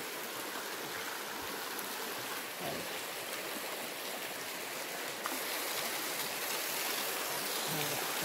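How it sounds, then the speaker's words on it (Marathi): A river stream flows nearby in a forest near a dam, giving a continuous broadband rush of moving water that stays steady throughout. "नदी बाजूलाच आहे ना."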